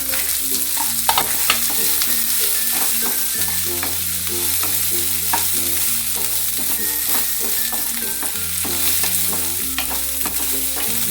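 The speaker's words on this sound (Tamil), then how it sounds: "குறைச்சிட்டு நல்லா வதக்கிடலாங்க" Red chillies and other ingredients for pirandai thuvayal being sautéed and stirred in a pan, with a steady sizzle and repeated scraping strokes of a ladle throughout, close and fairly loud, with no talking.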